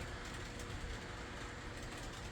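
A Lionel 41 Army switcher model train crawls slowly along its track under Variac control, giving a steady, continuous low rumble and faint clickety-clack at close range with no talk.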